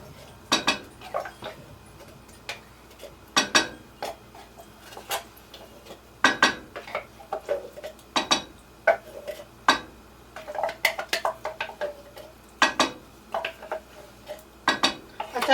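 A metal spoon clinks and scrapes against the inside of a can of pumpkin in a series of irregular sharp knocks and rattles, close and clear with no talk.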